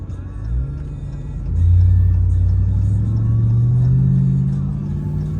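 A truck in sport mode accelerates onto a highway, heard from inside the cabin. Its deep engine rumble swells and climbs steadily over a few seconds, loud and continuous, with no talk.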